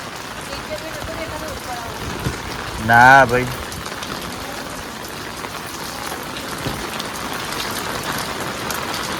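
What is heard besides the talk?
rain falling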